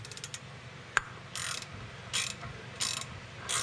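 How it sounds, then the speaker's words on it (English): Ratchet wrench turning a 5mm fitting during front lower control arm work on a 2000 Mercedes E320: a few quick ratcheting clicks, then four evenly spaced bursts of close, crisp pawl clatter, with no talking. "I don't have a small wrench, so here's my big one."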